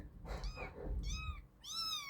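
A mother cat meows three times, close and fairly loud, with soft rustling and handling noise underneath and no talking.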